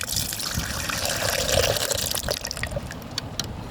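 Liquid from a murky pasta beer mash pours off steadily in a close, continuous splashing gush that thins to a trickle near the end.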